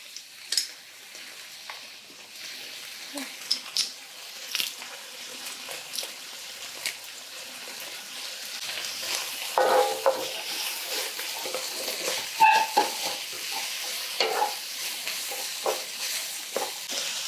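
Garlic, sliced onions and peppers sizzle in a pan for chicken paprikash, a soft steady frying hiss broken by scattered clinks and scrapes of stirring, some louder bursts in the middle.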